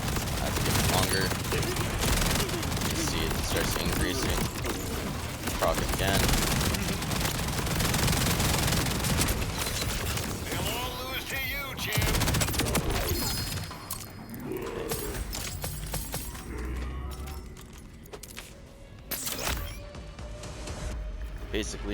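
Rapid, dense gunfire from the Bod Melter switched to SMG mode in Borderlands 4, a sustained loud fusillade that runs almost unbroken before thinning toward the end, with a voice talking over it.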